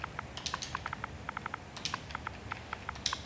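Quick bursts of keystrokes on a computer keyboard, typed in short uneven runs with brief pauses, close and fairly quiet against a low background hum.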